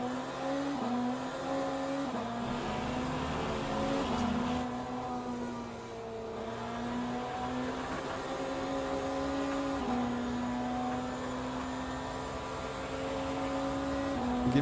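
Peugeot race cars in the video game Le Mans Ultimate at the Portimao Algarve circuit, a steady droning engine note with shifting pitch as cars run close together, continuous and fairly loud throughout.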